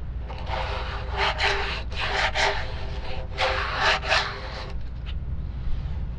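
Sandpaper is rubbed across wood at a 45-degree angle while repairing the rudder of a Seawind 1600 catamaran, giving a series of close, raspy back-and-forth strokes in an uneven rhythm.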